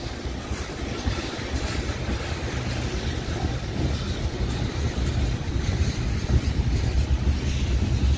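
A Canadian National freight train with an EMD SD70M-2 locomotive leading rolls past at close range, its rumble and wagon clatter loud and steady throughout, with no talking.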